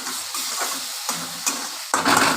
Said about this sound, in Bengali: নাড়াচাড়া করে ভালোভাবে কষিয়ে নিই মশলাটাকে